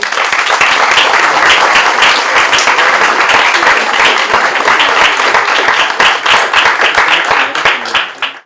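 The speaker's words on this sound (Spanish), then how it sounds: "Un aplauso para ellos dos." Loud, sustained applause from a large crowd at a student publication launch, dense clapping that holds steady for several seconds before tapering off at the end.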